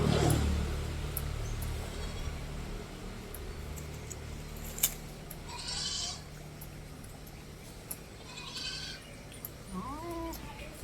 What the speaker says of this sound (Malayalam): നല്ല സൈസുള്ള ആടുകുട്ടി, മുട്ടൻകുട്ടിയാണ്.